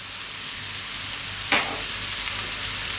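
Ground cumin tipped into a hot pan over lowered heat gives a brief sizzle burst midway, set against a steady background hiss of frying.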